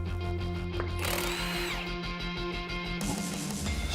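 A power tool whirs and bursts in short pulses while removing the rear wheels from a 2007-2018 Jeep Wrangler JK, with a steady mechanical hum underneath.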